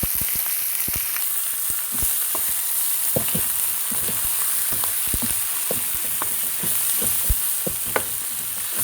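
Chicken pieces for arroz caldo stirred in a pot, with a steady close sizzle of frying broken by frequent sharp clicks and scrapes of a spoon against the pot, no voices.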